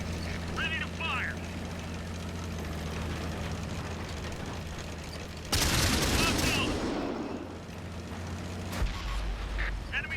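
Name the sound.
tank cannon fire in World of Tanks video game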